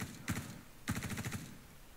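Two short bursts of rapid automatic gunfire from the video game Star Citizen: a brief volley, then a longer stuttering string of shots, fairly quiet and with no talk over them.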